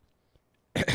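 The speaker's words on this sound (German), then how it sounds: "Da huste ich vor Frust auch mal in die Aufnahme." One short, harsh double cough sounds close and loud after near silence.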